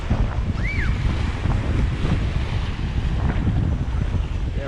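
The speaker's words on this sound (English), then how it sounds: "We're here in 7 Mile Public Beach, 7 Mile Beach." Waves and surf at Seven Mile Public Beach on Grand Cayman, a steady rush of water mixed with wind buffeting the microphone throughout.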